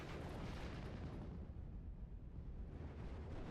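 Rumbling bomb explosions from the Steel Division wartime strategy game roll on in a continuous low, heavy roar, fairly faint and distant, with no clear individual blasts standing out.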